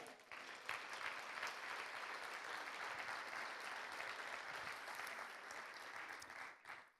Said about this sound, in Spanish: ¿Le puede dar un aplauso a Él?